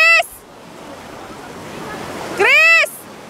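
Sea waves surge and wash in a continuous, rising roar along a shore, with a voice shouting loudly at the start and again near the end.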